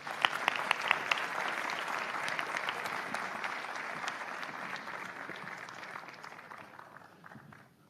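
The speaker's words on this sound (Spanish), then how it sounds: "Por favor, un gran aplauso para Nahum Klicksberg." An audience at a university talk on artificial intelligence and universal basic income applauds as the speaker is introduced, dense steady clapping with a few sharp claps at the start that slowly fades out.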